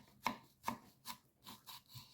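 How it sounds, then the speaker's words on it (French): A knife chops shallots into small pieces on a board, giving six distinct, fairly close, sharp strikes spaced at an irregular rhythm, with no talking. "Et on va se couper ça en tout petit... Je vais me faire revenir mes petites échalotes."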